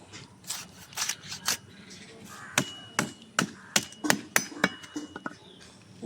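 A whole rohu fish is cut with a knife, producing sharp, irregular chopping knocks and crisp cuts close by, with faint talk in the background.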